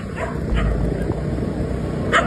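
Dogs bark and yip at boys riding a bike late at night, several sharp barks and whimpers coming in bursts over steady road rumble, with faint voices underneath.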